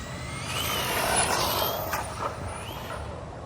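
Traxxas Bigfoot RC monster truck upgraded to a 3S motor, a high whining electric drive and rushing tire noise swelling then fading as it races past outdoors, with no talking.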